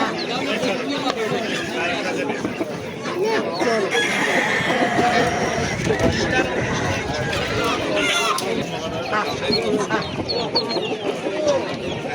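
Busy crowd chatter and voices at a poultry market mix with crowing roosters and clucking hens nearby, a steady lively din throughout.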